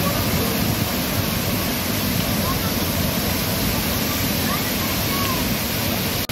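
A forest waterfall in Keonjhar rushes with a loud, dense, unbroken roar of falling water that holds steady throughout, close and enveloping.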